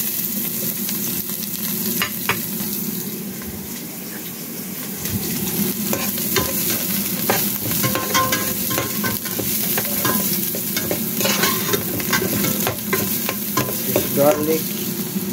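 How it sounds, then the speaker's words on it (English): Garlic and onion sizzle in a pan as they are stirred, a continuous close frying hiss with scraping stir strokes and light crackles, loud and alone without talk. "so garlic and onion, make it warm, you can feel it"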